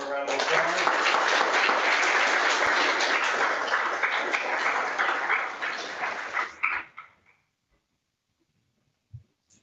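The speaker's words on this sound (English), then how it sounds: "One more round of applause." Audience applause at an astronomy conference session, a dense, steady wash of many hands clapping for about six and a half seconds, then fading quickly to near silence.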